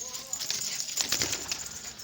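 A short burst of flapping wings as pigeons are let loose from a loft, rising over a background of outdoor chatter and faint cooing.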